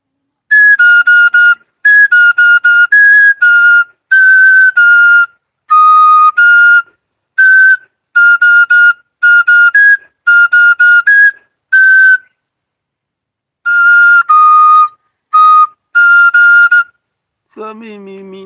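An oja flute shrills in loud, piercing bursts, short repeated phrases separated by pauses, bright and near, followed at the end by a brief voice.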